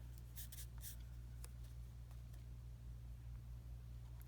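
Pencil marks are erased on a paper cityscape drawing, with quick scrubbing strokes in short bursts over a steady low hum, faint and close.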